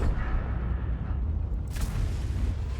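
A single deep tank cannon blast from an XM57 in a video game booms and rumbles, followed by a sharp burst of noise as it echoes out.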